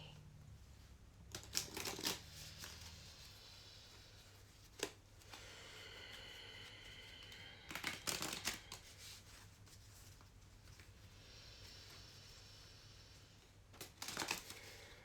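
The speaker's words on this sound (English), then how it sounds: "we have our first deck shuffled" Quiet bursts of cards being shuffled, three or four short riffles separated by pauses, soft and close.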